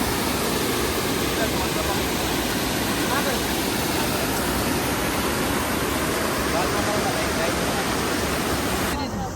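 A swollen river rushes with a loud, steady roar of water that fills the whole stretch without letup, close and continuous, with no clear voices over it.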